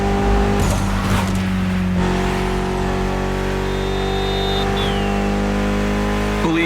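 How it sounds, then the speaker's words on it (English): A Mitsubishi inline four-cylinder making 280 horsepower drones steadily at high revs in The Crew Motorfest, loud and close, with a faint whine rising and falling near the end. "Mitsubishi gave us a nice inline four-cylinder with already 280 horsepower"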